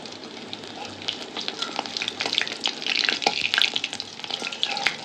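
Yam koftas sizzle and crackle as they fry in a pan, a steady, close hiss with sharp spattering pops that grow busier midway.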